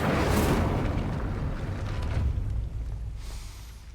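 An Incendio fire spell cast in Hogwarts Legacy bursts with a loud, booming roar that rumbles, fades over a few seconds, and ends with a brief whoosh.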